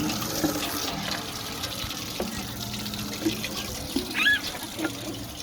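Water splashes and trickles at a playground water play area, a steady running flow with small pours and drips, while a voice and other quiet voices come through faintly.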